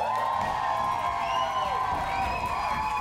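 A crowd at a TikToker dance battle arena cheers and shouts with a continuous loud roar, some whoops rising above it, and clapping and stomping mixed in throughout.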